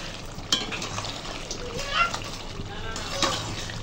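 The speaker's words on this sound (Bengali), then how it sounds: "গোশত এখনো কষানো হচ্ছে" Meat is braised in a pan with constant sizzling and wet stirring splashes alongside it, a few sharp utensil knocks, and people talking over the cooking.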